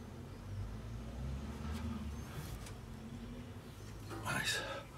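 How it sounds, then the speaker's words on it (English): A Ford Ranchero truck engine idles with a steady low rumble throughout, while a person talks over it and a brief brighter rattle rises near the end. "We'll start the truck again, check the level once more"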